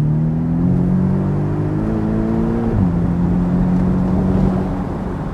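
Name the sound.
Porsche 718 Boxster GTS flat-four engine exhaust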